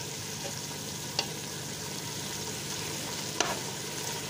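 Onion, garlic, pepper, tomato and dry seasonings sizzle steadily in a pot for Cuban beef stew as alcohol cooks off, with two sharp utensil taps against the pan.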